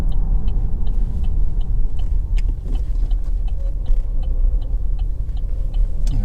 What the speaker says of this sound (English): This is very smooth and quiet on the road.